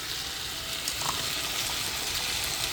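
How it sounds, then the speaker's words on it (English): A pan of vegetables sautés for chicken stew, giving a steady, even sizzle that holds at one level throughout with no talking. "Let it saute for a little bit, then we'll add our vegetables."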